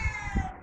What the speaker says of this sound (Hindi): और बिल्ली भी आ गई